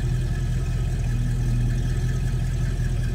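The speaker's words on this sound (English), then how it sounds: "Just a smooth running 351. No crazy exhaust." A 1972 Mercury Cougar XR7 convertible with a 351 V8 and stock exhaust idles smoothly nearby, a steady low rumble with no revving.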